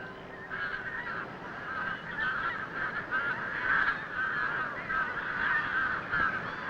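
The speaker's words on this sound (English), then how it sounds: "Pinkfoot and grey-lag geese, northward bound for the brief Arctic summer." A dense chorus of pink-footed and greylag geese honking continuously during spring migration, many birds calling at once at moderate distance, a steady overlapping clamor with no voices.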